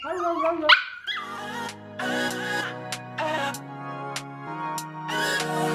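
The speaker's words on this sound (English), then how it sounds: "Do you guys know Lola's actually a pretty good singer?" A pet dog sings on command at home, giving a run of drawn-out, wavering howls and yips in several separate bursts, close and fairly loud, with a brief human voice at the start.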